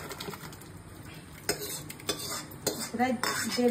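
Lentils tumble into a pot of khichuri with pumpkin, potato and Gobindobhog rice, giving sharp metallic clatters of spoon and pot plus scraping and stirring, loud and close, in irregular bursts.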